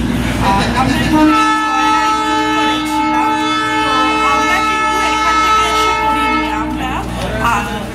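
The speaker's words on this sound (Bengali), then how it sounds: "এখন আমরা দাঁড়িয়ে আছি দার্জিলিং টয় ট্রেনের স্টেশন।" A Darjeeling toy train at Darjeeling station sounds a loud, sustained, steady horn or whistle tone for several seconds, close by, against a background rumble.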